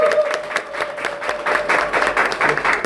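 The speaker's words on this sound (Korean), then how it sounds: "다시 한번 큰 박수 부탁드리겠습니다." An audience at a youth political rally and press event claps for a speaker, fairly close, uneven applause with individual claps audible and some faint crowd noise underneath.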